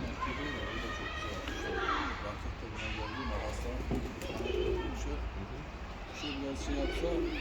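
Seferli flying pigeons coo and flutter close by at a pigeon loft in Mardin, with soft bird calls scattered through a steady background and people talking over them.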